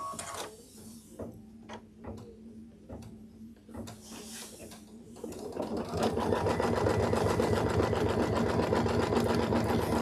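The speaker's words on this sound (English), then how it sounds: "it's just going to do a little basting stitch around here" A sewing machine runs a basting stitch around a quilt block, starting with slow separate needle taps and then settling into a steady loud whir, close by and with no talking.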